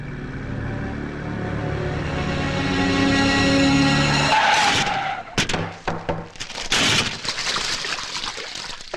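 A scooter skids to a sudden stop, a long rising tyre squeal that breaks off into scraping, clattering bursts, loud and close with no talk.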